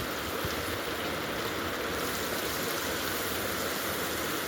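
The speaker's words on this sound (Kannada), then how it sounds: "ಈಗ ಗ್ಯಾಸು ಐ ಫ್ಲೇಮಲ್ಲಿ ಇಟ್ಕೊಂಡು ಈರುಳ್ಳಿನ ಫ್ರೈ ಮಾಡ್ಕೊತಾ ಇದ್ದೀನಿ" Onions fry in a pan on a gas stove with a continuous, even hiss like steady rain, close and unbroken throughout.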